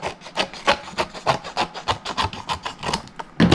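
Acetate sheet being trimmed for a handmade tunnel card, a quick series of rhythmic scraping cuts, about a dozen short strokes close by with no talking.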